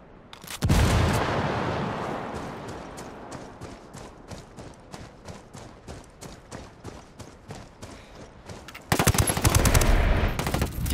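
Rapid automatic gunfire from the video game Ghost Recon Wildlands, sustained bursts in a steady rhythm that fade slightly, then a louder, denser volley near the end.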